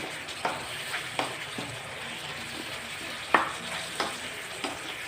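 Zucchini stir-frying with salted fish in a hot pan, a steady sizzle broken by several sharp scrapes and clinks of a spatula against the metal, close and fairly quiet, with no talking.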